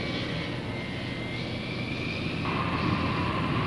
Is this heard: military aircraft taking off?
yes